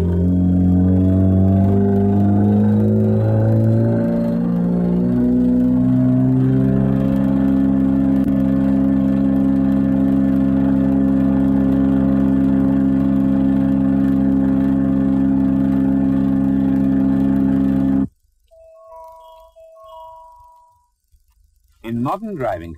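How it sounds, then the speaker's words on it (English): A Ford overhead camshaft engine running on test, a loud steady drone with strong harmonic tones that rise in pitch early on and then hold, before cutting off abruptly. "engine tests were still being carried out on the whole new range of overhead camshaft engines"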